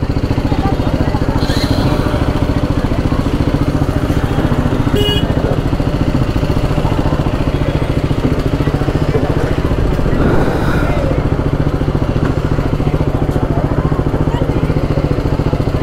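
A motorcycle engine runs steadily at close range, reported as badly overheated, its continuous low rumble filling the whole stretch with some background noise and no clear talk.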